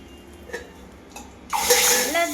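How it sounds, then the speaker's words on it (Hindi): Cumin and asafoetida hit hot oil poured into water for golgappa tempering, giving a sudden loud sizzling hiss that bursts in after a quiet moment with a couple of small clicks. "तो पानी में लगाएंगे तड़का, तो उसके लिए ये ऑयल गर्म हो रहा।"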